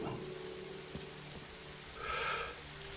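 Rain falling in a survival video game, a steady soft hiss of rainfall with faint droplet patter, quiet throughout, swelling briefly in the middle.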